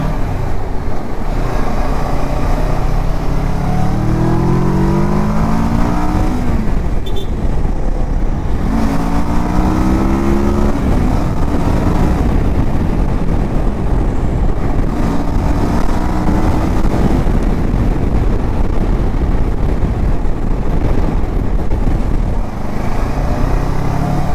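A road vehicle accelerates hard at night on an empty road. A loud, steady engine and road roar repeatedly rises in pitch through the gears, with wind noise and no voices.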